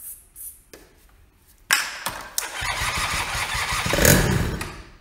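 Chinese ATV engine with the throttle held open cranks with a few quiet clicks, then catches and fires up into a loud, continuous running growl that swells slightly before easing, close by.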